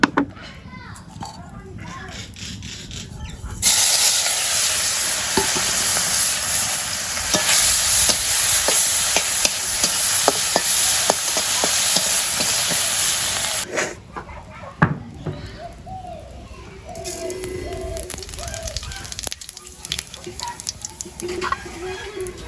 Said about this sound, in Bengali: শুটকি মাছ ভেজে নেবো।